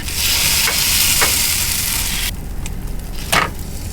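Patties sizzle loudly and steadily in a pan on a propane stove inside a vehicle, with a few scraping stirs, and the frying quiets partway through.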